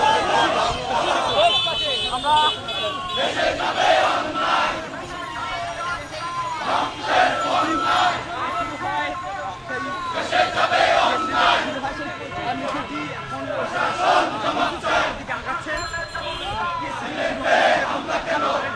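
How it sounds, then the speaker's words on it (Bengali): A protest march crowd chants slogans together, a loud, continuous rhythmic mass of voices with rising and falling shouts throughout. "তারা স্লোগান দিচ্ছে"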